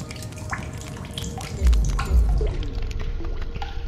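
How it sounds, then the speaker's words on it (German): Drinking water in The Solus Project video game: wet, squishy gulping and dripping sounds rise briefly to a louder splash, then fade, with no talking. "Ich trinke auch schon Wasser."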